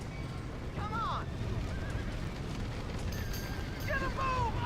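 Horses in Red Dead Redemption whinny in sharp rising-and-falling calls, one near the start and another near the end, over a busy rumbling background with faint shouting.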